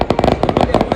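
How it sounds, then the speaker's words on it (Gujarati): Firecrackers burst in a rapid crackling string during an outdoor fitness challenge, a loud, dense volley of sharp pops rattling close by for the whole moment. "ફટાકડા ફૂટી ગયા"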